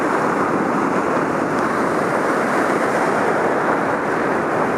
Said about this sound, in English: You always look up, try to check the waves, where the waves at.